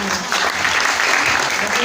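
Applause for a subdistrict head at a regency head's community gathering, a dense steady clatter of many hands clapping throughout, with crowd noise mixed in.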